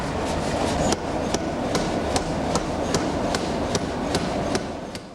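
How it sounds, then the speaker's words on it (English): Hammer blows ring steadily on a hot blade being drawn out across the short face of an anvil at about 1,200°C, roughly a dozen evenly spaced metallic strikes over a constant loud industrial roar, with no talk. "The blade is drawn across the short anvil surface, lengthening it."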